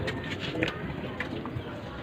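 Soft pigeon coos against a steady background hum, faint and somewhat distant, with a few brief calls rising above the noise, in Tayabas, Quezon.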